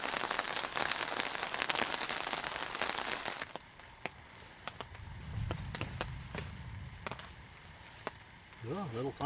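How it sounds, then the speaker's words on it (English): Rain patters on a tarp at a lakeside campsite during a solo canoe trip in the Boundary Waters, a dense hiss at first that thins to scattered, distinct drops, with a brief voice at the end. "and then the rain started"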